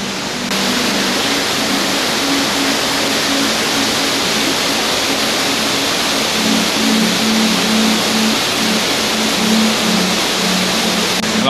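Strong river current rushing at Tel Dan, where many springs join into one fast stream, a dense, loud, steady roar of flowing water filling the whole stretch with no break.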